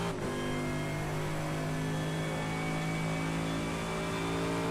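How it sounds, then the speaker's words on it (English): Mercedes GT3 race car with a big front-mounted engine at Daytona, its engine droning loud and steady with strong harmonics while the tyres strain to break away, no pauses throughout. "you can hear the tyres trying to break away"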